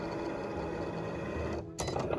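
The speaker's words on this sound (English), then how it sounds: "the Cricut cut button starts blinking, so we're gonna press that" Cricut cutting machine whirs and clicks with a steady mechanical hum, close and moderately loud, broken by a brief pause before motor noise resumes with a sharper burst.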